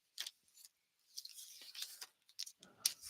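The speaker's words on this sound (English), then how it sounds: "We're gonna fussy cut this out too" Scissors snip through paper in a short run of crisp, close cuts while fussy cutting around shapes for card making, with brief pauses between the strokes.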